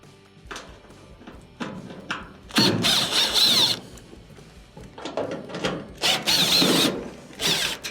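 Phillips screws being driven out of the top panel of a noisy clothes dryer with a power driver, several short buzzing whirs in separate bursts with clicks and handling noise between them, close and fairly loud.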